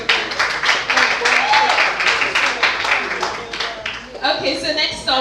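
Applause rises for a poet at a spoken word event in Lagos, a quick patter of many hands clapping steadily under crowd murmur, with voices growing louder near the end.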